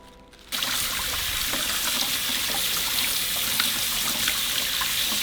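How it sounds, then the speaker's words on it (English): Water runs steadily from a tap over chiles being rinsed, a constant hissing splash that starts abruptly and continues without talk. "we're going to rinse them with water"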